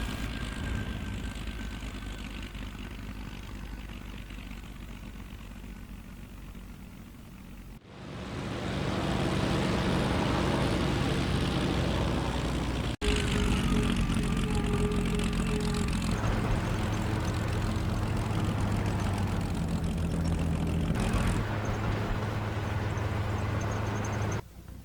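Propeller airplane engine in a video game, a damaged aircraft on an airfield: quiet at first, then a loud, steady, close engine drone kicks in and continues with shifting tones.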